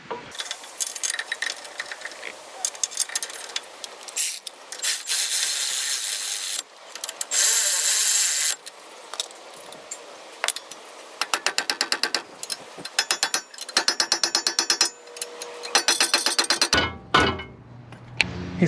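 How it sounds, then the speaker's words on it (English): Brake caliper mount being fitted on a 2012 Nissan Frontier, with close, sharp bursts of ratchet clicking, metallic clinks and tool handling, broken by short pauses. "Installing the caliper mount."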